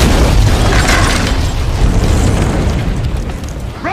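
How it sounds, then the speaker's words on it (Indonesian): A grenade blast tears apart a bakery in a movie scene, a loud, sustained roaring explosion with rumbling low debris that fills the whole stretch, slowly tapering near the end. "tiba-tiba ada granat yang secara cepat meledakkan toko roti"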